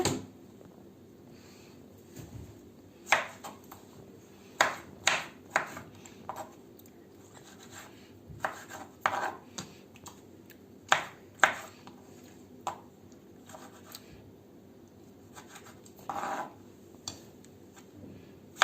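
Sharp knife taps against a cutting board as tomatoes are sliced into small pieces, irregular and close, with short bursts of slicing strokes and brief pauses between them.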